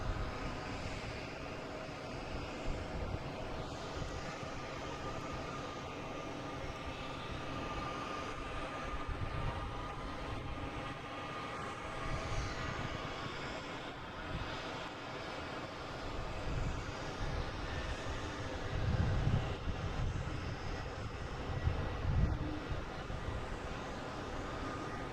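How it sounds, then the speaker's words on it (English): Swiss flight 52, an airliner arriving from Zurich at Boston Logan, gives a long, steady distant engine drone with a thin tonal whine that swells slightly toward the end, no voices. "we have Swiss coming in from Zurich, flight 52"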